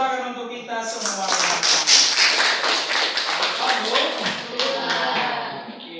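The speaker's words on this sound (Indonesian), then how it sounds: "tepuk tangan untuk kita semua" A class of students at school applauds together, a dense burst of many hands clapping that stays loud and steady for about six seconds, with some voices mixed in.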